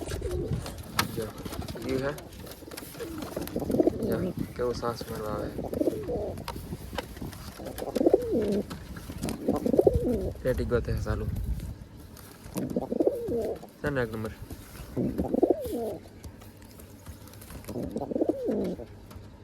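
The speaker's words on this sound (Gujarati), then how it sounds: "બધા કબૂતર છે" Pigeons coo repeatedly in a bird setup, their soft rolling calls rising and falling close by while someone talks over them throughout.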